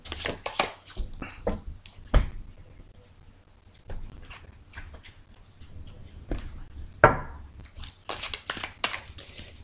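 Tarot cards being cut and handled on a table, a scattering of sharp irregular slaps and shuffling flicks, some close and crisp, with quieter gaps between bursts.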